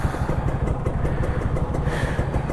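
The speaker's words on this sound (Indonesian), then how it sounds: "Motor Ninja ya gue suka suaranya" A Kawasaki Ninja RR 150, an older two-stroke sport bike, runs with a rapid, raspy pulsing exhaust note, loud and close, with no talk.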